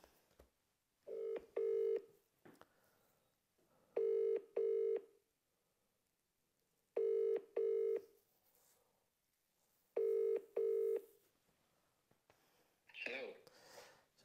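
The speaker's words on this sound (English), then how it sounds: "I better just phone him just to make sure that message went through." A telephone call rings out as four evenly spaced double-ring bursts separated by short silences, with a brief voice or rustle at the end.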